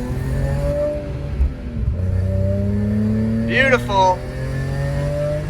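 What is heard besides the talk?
BMW E46 M3 SMG engine revving through hard shifts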